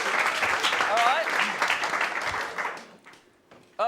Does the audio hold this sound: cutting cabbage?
no